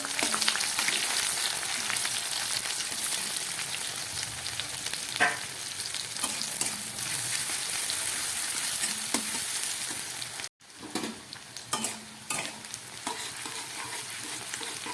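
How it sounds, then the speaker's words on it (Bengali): Onion frying in hot mustard oil in a wok for mutton kosha makes a steady, close sizzle, broken by stirring scrapes and one brief pause. "তেলটা গরম হয়ে গেছে, আমি কিছুটা পেঁয়াজ এর মধ্যে একটু ভেজে নিচ্ছি।"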